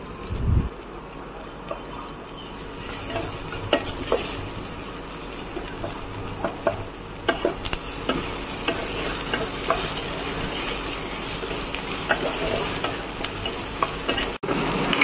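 Ginger paste and tomato fry and get stirred in a pan, giving a steady close sizzle broken by frequent scraping stir strokes, with no talking.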